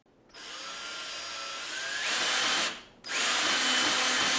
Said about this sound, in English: clamp the second 24-inch baluster and screw it to the base beam and other horizontal baluster.